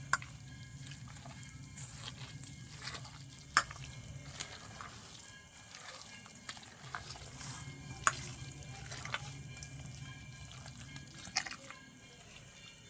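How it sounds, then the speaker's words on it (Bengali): Hands squish and knead a moist spice mixture seasoned with salt and lemon juice, soft wet squelching and pressing repeated steadily over quiet background with occasional sharper clicks. "ভালো করে হাত দিয়ে আমি সব একসাথে মেখে নেব।"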